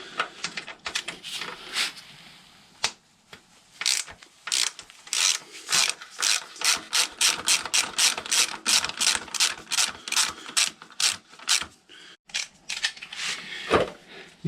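Close, rapid ratcheting from a socket wrench loosening the bolts on a Kawasaki Zephyr 750 chain adjuster, with repeated bursts of clicks and short pauses between strokes.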